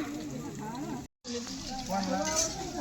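Potato pieces fry in hot oil for sabudana khichdi, a continuous soft sizzle and crackle with a brief gap partway through, under someone talking.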